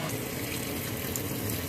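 Degummed throwster silk waste rinsed under a running tap, a steady, close, fairly loud wash of flowing water splashing without pause.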